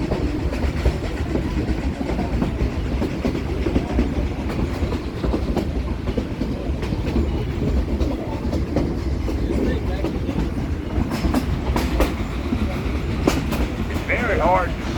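Steam train D&RGW #484 on the Cumbres and Toltec line, heard from aboard, rolls with a continuous heavy rumble and rhythmic clickety-clack of wheels on rail joints, steady and loud throughout.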